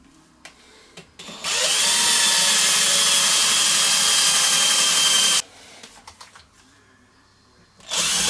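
A power drill bores a hole into a homebrew 7 MHz transceiver chassis, one loud, high-pitched whine lasting about four seconds, with light handling clatter before and after and another drill burst starting at the end.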